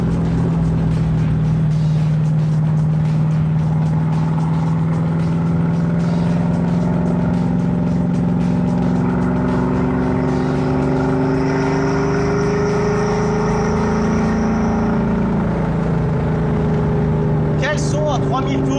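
A car engine driving tight, winding back roads, a steady loud drone that rises and falls in pitch as the driver changes speed, with a person talking over it throughout.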